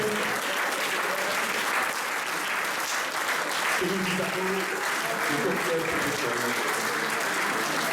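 A crowd applauds the winners of an oyster-opening contest at a prize-giving ceremony, sustained dense clapping throughout, with someone speaking over it partway.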